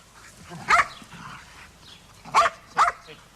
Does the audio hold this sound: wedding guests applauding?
no